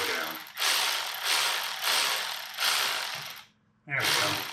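Ratchet cranking the belt adjuster on a Subaru Outback's 2.5 L four-cylinder boxer engine, four long bursts of rapid clicking in close succession, a brief pause, then another burst starting.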